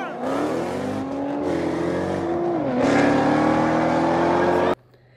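A Dodge Hellcat launching against a GTR in a drag race, with a loud engine roaring and climbing in pitch through a gear change before cutting off abruptly, with voices faintly underneath.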